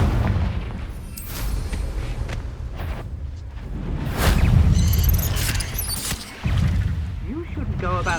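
Explosive blasts from spells in Hogwarts Legacy, including the Confringo fire spell, booming and rumbling loudly through the middle of the stretch among other combat effects, with a voice speaking over parts of it.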